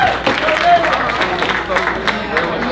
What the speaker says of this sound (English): So everybody, a round of applause for Caitlin Snyder.